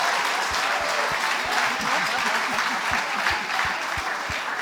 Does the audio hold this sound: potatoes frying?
no